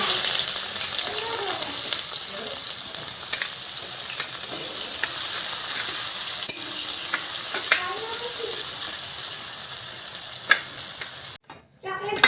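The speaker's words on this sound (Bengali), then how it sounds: "দিয়ে দিচ্ছি পেঁয়াজ কুচি" Chopped onion frying in a pan sizzles loudly and steadily, with some faint background voices and a sudden cut near the end.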